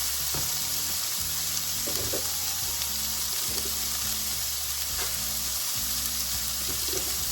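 Corn kernels cook in a hot pan with a constant close sizzle, broken by repeated soft scraping stirs.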